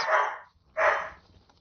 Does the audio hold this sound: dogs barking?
yes